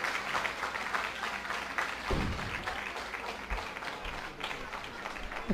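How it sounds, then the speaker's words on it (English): An audience claps for teachers at an ISKCON culture camp talents day, with moderate, continuous applause and occasional louder thumps nearby. "Give them a big round of applause."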